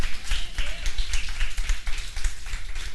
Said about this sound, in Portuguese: Você pode aplaudir o Senhor e dar glórias a Deus por isso?